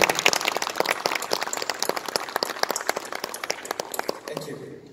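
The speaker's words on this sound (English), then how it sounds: "let's give them a round of applause" An audience in a cultural hall in Kohima applauds, a dense crackle of many hands clapping that gradually thins and fades toward the end, with some voices underneath.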